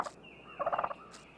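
Wild turkey giving its feeding call: a brief soft note, a pause, then a short rapid burst of clucking purrs, followed by a faint trailing note, heard close and alone.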